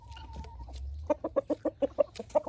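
A chicken clucks in a quick, rhythmic series of about nine short clucks, close by, following a brief thin tone and low rumble.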